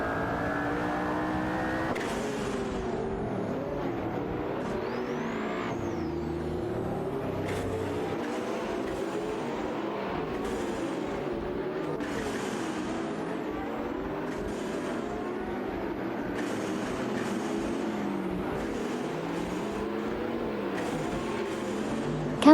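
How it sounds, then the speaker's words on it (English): Race car engines from an AI-driven racing video game whine and rev continuously, with pitch sweeping up and down as cars accelerate and pass, forming a steady, dense engine drone with no talking. "some more AI race car action"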